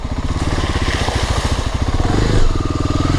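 A motorcycle engine revs close up, a loud, steady, rapid pulsing that swells slightly near the end, with no talk over it.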